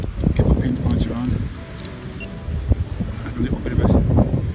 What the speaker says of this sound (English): It's quite windy today, so I hope that wind's not interrupting too much with the video.